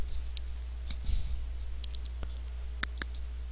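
A computer mouse clicks a few times in a quiet room over a steady low hum, with two sharper clicks near the end, while working in CarveWright Designer software.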